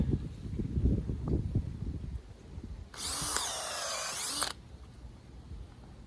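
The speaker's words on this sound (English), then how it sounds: "And we'll take the drill bit" A power drill whirs steadily for about a second and a half, close by, drilling a tap hole in a maple tree, after some outdoor rustling and handling noise.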